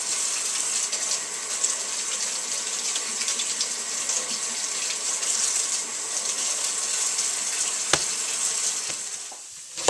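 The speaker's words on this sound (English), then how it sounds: "Grab the onion and go ahead and rinse that off." An onion is rinsed under a running kitchen tap, a steady hiss of water splashing into the sink throughout, with a couple of soft knocks near the end.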